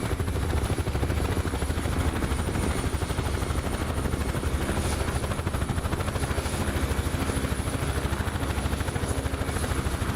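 Helicopter rotor in the DCS flight simulator game, a steady, continuous beating drone at even level throughout, alone with no talk over it.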